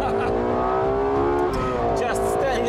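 The high-revving engine of a Lexus LFA screams loudly and continuously, its harmonic tone climbing and wavering under a voice talking over it.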